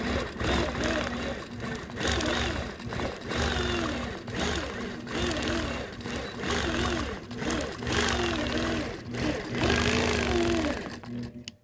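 A sewing machine stitches free-motion swirl quilting on a ribbon-woven star quilt, whirring in rhythmic bursts of stitching while a person talks over it.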